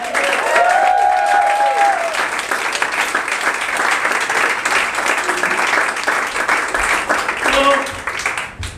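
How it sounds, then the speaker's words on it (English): Audience applause fills the room at the close of a monthly improv comedy show, sustained dense clapping with a few cheers and whoops rising over it before tapering off near the end. "One clap for Greg."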